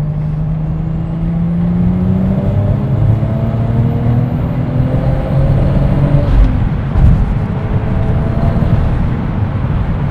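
A Lexus IS fitted with a JZ engine accelerating, its engine note rising steadily through the gears with a shift partway through, loud and close with no talking.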